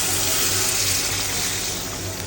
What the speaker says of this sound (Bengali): কষানো হয়ে গেছে। এখন গরম পানি দিয়ে দিলাম,